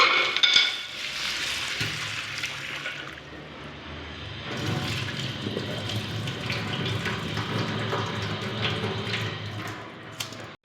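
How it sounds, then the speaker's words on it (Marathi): Green mung beans are washed under running water, a continuous splashing and rushing flow with swishing as the beans are stirred by hand. "आता हे मूग आहे ना स्वच्छ असे पाण्याने धुवून घ्यायचे आहे।"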